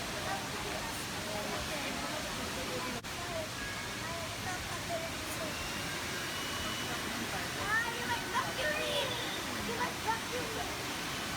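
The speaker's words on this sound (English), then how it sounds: "In here you will find the world's largest man-made waterfall." Steady broadband rush of falling water from a large man-made indoor waterfall in Singapore fills the space, with faint crowd chatter and echoing voices mixed underneath.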